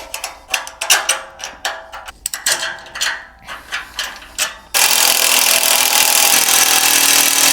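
A power tool drives and tightens the bolts on the load bar rails of a MegaSport LowBed trailer during assembly, giving a string of short ratcheting bursts up close that end in one long continuous whir.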